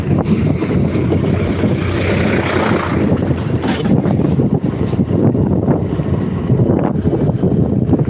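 A tractor carries riders from the village toward Shirla near Akola, its loud engine drone and rattle steady throughout, heavily buffeted by wind rushing over the microphone.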